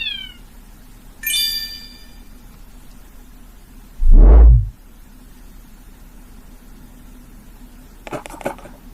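A cat gives a single short high meow near the start, followed several seconds later by a deep, loud thump and rumble, then a faint chime at the end, all over a steady background hiss.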